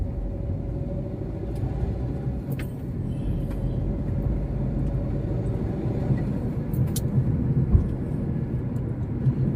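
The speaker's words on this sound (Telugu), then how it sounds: "ఒక లారీ వస్తుంది అన్ని వెహికల్స్ ఇటు పంపిస్తున్నారు" A lorry and other road traffic pass on the Vijayawada bypass road, a continuous heavy engine rumble and tyre roar that swells slightly toward the end, with no voices heard.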